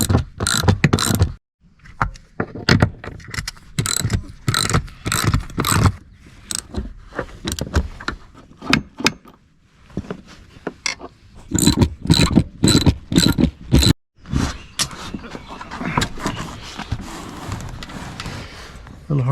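Ratchet wrench with an 18 mm deep socket working loose the four seat bolts inside a 2004 Chevrolet Suburban Flex, giving repeated short clicking and turning bursts with brief pauses, close by, alongside occasional handling clatter.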